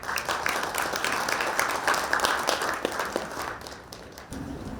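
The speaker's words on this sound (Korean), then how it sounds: "힘찬 박수로 맞이해 주십시오." Audience applause welcoming the Gyeongnam education superintendent at a school centennial ceremony: steady, dense clapping from a large crowd that continues throughout, easing slightly near the end.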